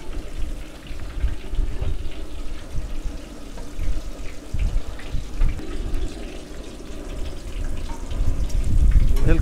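Stuffed chiles fry briefly in hot oil on a disco, giving a steady, dense bubbling sizzle that runs throughout and swells slightly near the end.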